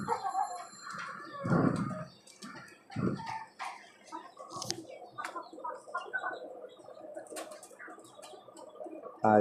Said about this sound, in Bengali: এই যে আমার সাদা মোরগটা, ওর নাম রেখেছি আমি মিস্টার হোয়াইট